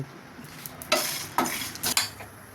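Asafoetida and garlic fry in a little oil, a soft sizzle under several sharp bursts of stirring and utensil scrapes against the pan, close and fairly quiet.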